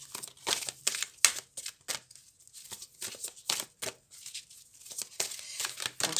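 An archangel oracle card is drawn from a deck, with close, quiet papery shuffling, rustling and crinkling in short irregular bursts.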